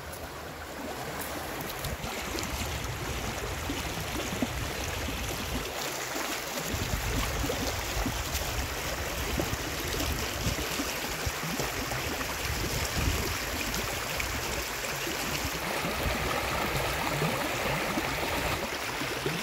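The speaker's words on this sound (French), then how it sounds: "Avec le son de l'eau, c'est tout ce que j'adore." A river flows steadily with a continuous rushing, bubbling wash of water, close and even in volume throughout.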